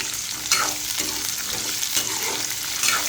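Whole peeled shallots and garlic sauté in oil for a village-style dry fish curry, a dense close sizzle with a few quick scraping stirs over three seconds.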